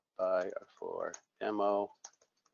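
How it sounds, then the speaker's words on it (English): Computer keyboard typing while entering a part in an SAP purchase requisition, with soft clicks mixed under a voice and a few separate keystrokes near the end. "I will type in buy for demo"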